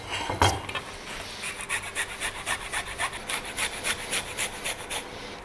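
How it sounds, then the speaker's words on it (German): Fresh ginger rubbed over a grater for ramen soup, a run of steady, rhythmic rasping strokes close up after an initial knock, with no voices. "Und den Ingwer reiben wir uns zu Saft."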